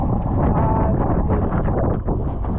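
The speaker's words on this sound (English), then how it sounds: "It's a little bit windy though, so it's not ideal." Loud, steady wind buffeting the microphone on a small sailing boat, a continuous low roar with rustling texture throughout and no talking.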